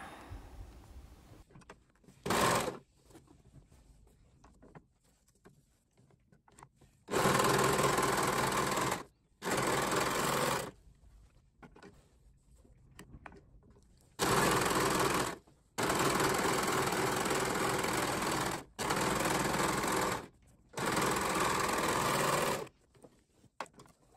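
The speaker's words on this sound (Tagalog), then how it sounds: "edge cutter or serger or overlock kung anong tawag dyan para malinis yung bawat gilid at para talaga hindi siya mabilis matanggal" An overlock serger runs along quilt fabric edges, trimming and finishing them in a series of loud, steady bursts of rapid mechanical whirring. Short pauses separate the bursts, with quiet handling of the fabric between them.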